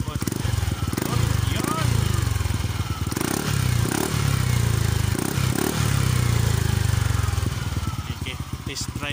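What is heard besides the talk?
Yamaha Aerox 155 motorcycle engine with Exos X-6 exhaust pipe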